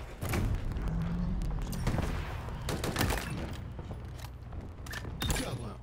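Repeated loud blasts and bursts of gunfire crackle in rapid succession, with distant booms scattered among them, in Halo Infinite multiplayer.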